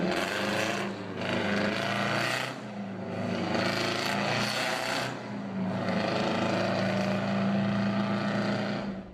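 A Detroit Diesel truck engine rumbles loudly and steadily nearby, its deep drone swelling and easing a few times as it runs.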